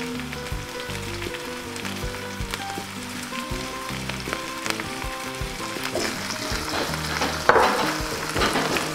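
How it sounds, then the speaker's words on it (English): Pasta with broccoli rabe, capers and red pepper flakes being stirred in a sizzling pan, a steady frying hiss with scraping stir strokes throughout, no talking. "Mix that up real good."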